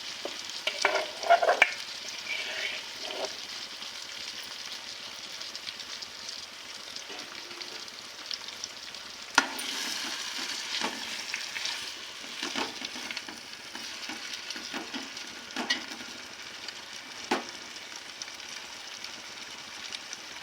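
Two marinated chicken leg pieces frying in oil in a home kitchen, a quiet continuous sizzle and crackle with occasional utensil clicks and scrapes.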